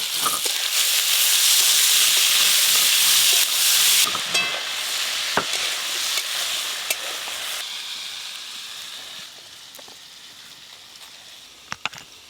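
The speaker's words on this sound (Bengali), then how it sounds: "আলুগুলো একটু হালকা করে ভেজে নেব।" Potatoes with turmeric and salt fry in hot mustard oil, giving a loud, dense sizzle that eases to a quieter crackle with occasional sharp clicks and stirring knocks.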